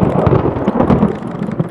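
Loud, deep rumbling thunder from lightning rolls steadily, close and heavy, with no voices, while fishing in Delacroix.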